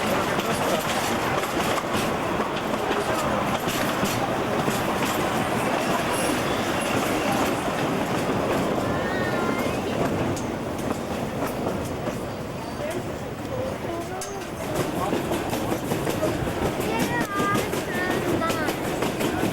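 A train on the Durango–Silverton line rumbles past steadily and loudly, wheels clattering and occasionally squealing on the rails, with faint voices beneath the noise.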